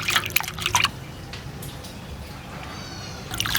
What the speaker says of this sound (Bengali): পেঁয়াজটাকে আমি ভালো করে জলে ধুয়ে নেব।